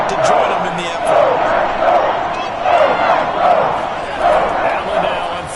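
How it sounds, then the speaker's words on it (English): A packed NFL football stadium crowd at a Buffalo Bills game roars in repeated swelling waves, a dense, distant wall of chanting and yelling that rises and falls every second or so, with a commentator's voice faintly mixed in. "this crowd's going to get even louder"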